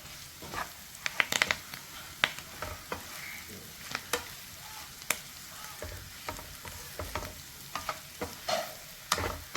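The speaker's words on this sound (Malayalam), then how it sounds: "ഇനി നമുക്ക് ഇതെല്ലാം കൂടി ഒന്ന് മിക്സ് ചെയ്യാം" Spices being stirred and mixed into a mango pickle made with Moovandan mangoes, giving irregular scraping and clinking strokes of a spoon against a vessel, close and moderately loud, with no voices.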